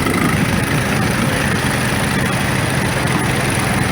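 A Model WC 35-horsepower tractor engine rumbles steadily and loudly in an old engine show parade, with no voices heard over it.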